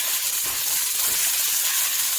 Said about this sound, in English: My beef is cooking.